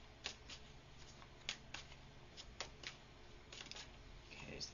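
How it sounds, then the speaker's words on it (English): Tarot cards are shuffled up close, with a series of crisp riffling bursts and soft taps against a quiet background. "If I can shuffle the cards."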